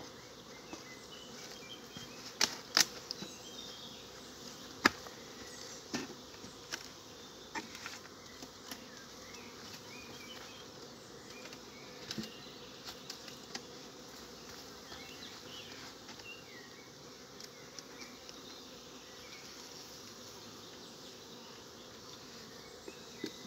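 Honeybees buzz around an opened beehive during a honey harvest, a continuous insect drone with individual bees zipping close past the microphone. Faint taps and handling knocks come through now and then.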